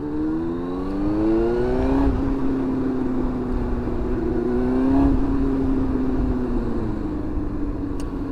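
A Yamaha R1 sport bike engine, fitted with a new OEM clutch, revs steadily at close range, with rising and falling pitch swells around two and five seconds before settling into a continuous drone.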